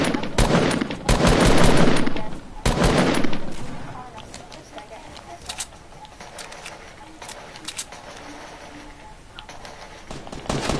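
Bursts of AR assault rifle fire in a first-person squad shooter game, loud rapid volleys at first, then sparser single shots further off, mixed with voices talking.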